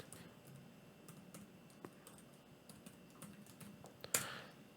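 A password tapped out on a computer keyboard while logging into an Ubuntu virtual machine, quick soft key clicks in an irregular run at close range, ending on a sharper, louder keystroke, with no voices.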